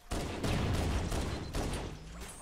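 Dense bursts of gunfire in the video game Halo CE, loud, continuous overlapping shots and blasts filling the whole moment with no clear talk.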